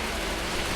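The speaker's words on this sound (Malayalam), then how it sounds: "ഭയങ്കര മഴയാണ്." Heavy rain falls outside in a dense, unbroken hiss that stays loud and even throughout, with no other sound standing out.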